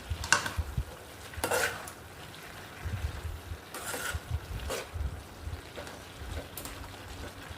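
A spoon scrapes and stirs turmeric and ginger paste into a broad bean (chikkudukaya) curry in a pan, with soft intermittent clinks and a faint sizzle, close and quiet.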